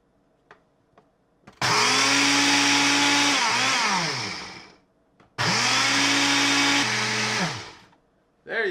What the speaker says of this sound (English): Eggs ready to blend.